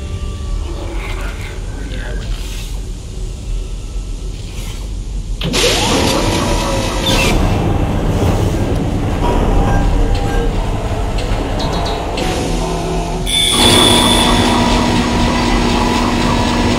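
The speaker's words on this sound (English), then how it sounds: "The tram is blocking the whole system." A tram in the video game Dead Space rumbles and rattles along tracks, growing louder and clattering midway, with voices speaking intermittently over the mechanical noise.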